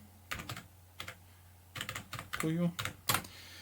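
Python code is typed on a computer keyboard in short bursts of close, crisp keystrokes, with brief pauses between the bursts and a voice speaking partly over the clicks.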